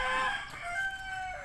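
A fighting rooster crows alone in a long, strained call at moderate distance, its harmonics holding steady before tapering off near the end.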